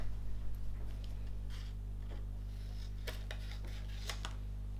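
Scissors snip through paper during a craft project, a few short crisp cuts spaced out over a steady low background hum.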